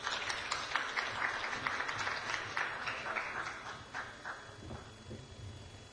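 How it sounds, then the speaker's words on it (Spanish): Audience at an education congress applauding, a continuous wash of many hands clapping in a hall, moderately faint and slowly tapering off toward the end. "recibámoslos con un aplauso"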